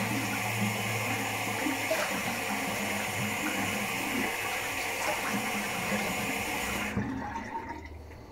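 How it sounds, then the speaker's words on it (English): Steady running water from a tap or shower while rinsing off during a shave, a continuous hissing wash that cuts off abruptly near the end. "Rinse off real quick."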